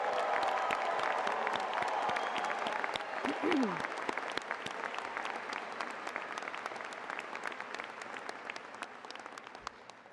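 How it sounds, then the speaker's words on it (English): A graduation crowd at a school of education ceremony applauds mothers and mother figures with sustained, dense clapping from many hands that holds steady and slowly softens. "please join me in a round of applause for the moms and mother figures who have supported our graduates along the way"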